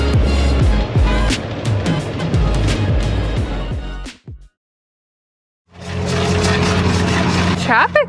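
Busy road traffic near a desert roadside sign, loud passing vehicles rushing by, then a gap of near silence before more steady traffic roar resumes.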